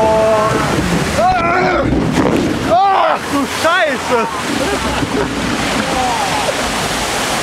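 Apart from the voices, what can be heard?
ride boats crashing into water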